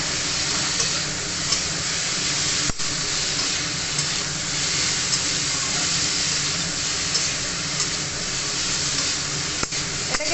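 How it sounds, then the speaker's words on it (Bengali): Bottle gourd with turmeric sizzles steadily in a frying pan as it is stirred, a continuous close hiss with faint scraping and a couple of sharp clicks. "এটাকে এভাবে নাড়াতে হবে"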